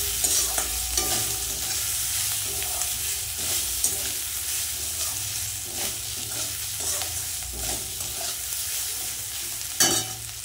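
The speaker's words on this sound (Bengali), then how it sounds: "উচ্ছেগুলো কিন্তু প্রায় ভাজা হয়েছে। এবার আমি গ্রেট করে আদা দিয়ে দেবো।" Bitter gourd fries in a pan with grated ginger, a continuous crackling sizzle punctuated by regular scraping and clinking strokes of a spatula stirring the pieces.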